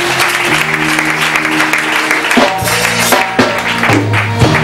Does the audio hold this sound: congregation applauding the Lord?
yes